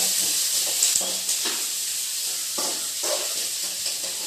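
Curry leaves sautéing in hot oil in a pan for a clam meat dish, a steady close sizzle with occasional stirring scrapes and brief crackling bursts, no voices.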